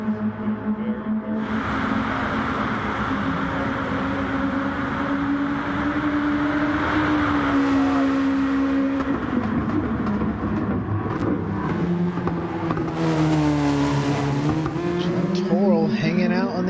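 Race car engines screaming at Fuji in GT Sport, a loud sustained engine whine rising and falling through gear changes, with tire squeal and a commentator talking over it.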